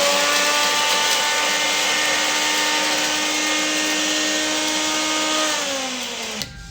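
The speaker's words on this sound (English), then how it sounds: "In a blitzer, over this side, get it all blitzed up" An electric blender blitzing curry ingredients for a lamb curry gives a loud, close, steady motor whir with a droning tone. Near the end the pitch drops as the motor winds down, then it stops with a small knock.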